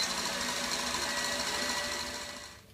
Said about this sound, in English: I'm going to continue whisking my mixture for another minute on high speed.